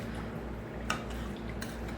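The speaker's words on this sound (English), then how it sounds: "I'm just going to stir this up." A spoon clinks softly against a bowl while two cups of white vinegar are stirred for freezer pickles, faint scraping and a couple of light taps over a steady background hum.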